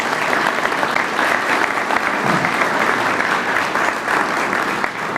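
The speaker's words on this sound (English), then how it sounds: "Let's give them a big round of applause" An outdoor groundbreaking ceremony audience for a wastewater treatment plant claps in sustained, dense applause that stays loud and even throughout.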